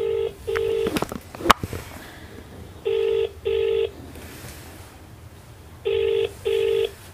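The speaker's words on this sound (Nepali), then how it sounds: "गइरहेको छ फोन, सम्भवतः उठ्नेछ" Over a loudspeaker, a telephone call plays out: a short burst of dialing clicks, then a ringback tone in paired beeps repeating three times with quiet gaps between.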